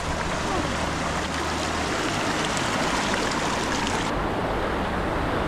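Hikers on the Kalalau Trail in Hawaii wade through a stream with their shoes on, the water rushing and splashing steadily and loudly throughout, with no clear talking over it.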